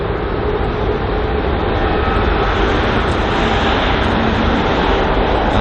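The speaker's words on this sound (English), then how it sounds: "So as you can see there, the golden 787-10 Dreamliner" A Boeing 787-10 Dreamliner in gold livery at London Heathrow, its loud, steady broadband jet roar filling the air without pause, heard alone with no voices.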